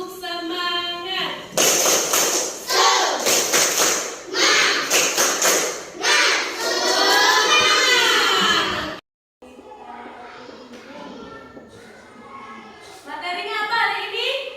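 Primary schoolchildren in a classroom perform a rhythmic spirit clap cheer, bursts of sharp patterned clapping alternating with shouted chanting voices, loud and close, followed after a short gap by a teacher talking.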